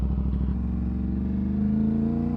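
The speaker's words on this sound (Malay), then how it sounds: "kau boleh dengar bunyi exhaust dia." An Aprilia RS457 motorcycle with an aftermarket exhaust idles close by, its low rumbling engine note pulsing steadily and rising slightly in pitch near the end, with no talking over it.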